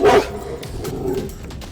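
A dog gives one loud, sharp bark up close. Quieter yips and whimpering sounds follow.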